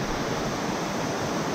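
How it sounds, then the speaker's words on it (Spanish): Waterfall in the Llanganates mountains, heard as a steady, loud rush of falling water with no breaks and no voices. "Miren cómo viene la cascada."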